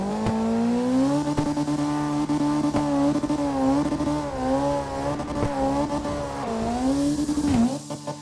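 A Nissan Silvia S14 engine in the CarX Drift Racing video game drones at a steady, wavering pitch. The revs bob up and down, then sag sharply near the end as it nearly stalls.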